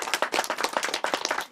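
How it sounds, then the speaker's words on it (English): Close, brisk clapping from an audience at a songwriters' event, dense and rhythmic hand claps through the whole short burst. "so let's give an applause for them."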